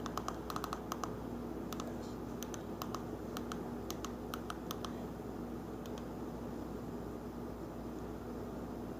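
Light clicks of someone typing on a computer keyboard come in short bursts over a steady background hum, faint and close, with pauses between the runs of keystrokes.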